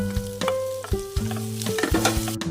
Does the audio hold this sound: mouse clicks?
no